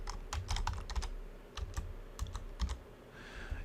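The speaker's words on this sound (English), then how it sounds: "I'm going to type in the word statue" Several close bursts of keystrokes on a computer keyboard, quick irregular clicks with short pauses between, no voices.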